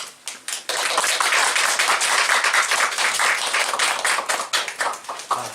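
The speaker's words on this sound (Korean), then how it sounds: "큰 박수로 우리 환영하겠습니다" A hall audience at a Christian professors' forum claps loudly to welcome a former university president, a sustained, dense roll of applause that starts with a few claps and continues for several seconds.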